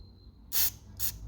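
Two short, sharp bursts of aerosol spray hiss into the holes of a Motorcraft carburetor on a Ford, close by, separated by a brief pause.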